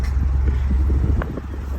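An old car engine runs at a steady low idle after starting in a Porsche dealership parking lot, a continuous close rumble with a few faint knocks.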